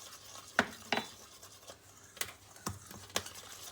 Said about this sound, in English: We're gonna add our baking powder now to the flour, give it a little mix.